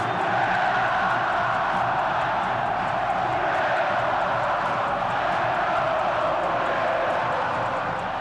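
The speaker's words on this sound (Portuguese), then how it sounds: "Tão inesquecível quanto uma música da torcida do Flamengo que ecoou pela primeira vez no Maracanã" Flamengo supporters massed in Maracanã stadium, a dense, steady roar of many voices filling the whole stretch without break, loud and distant-sounding like a packed stand.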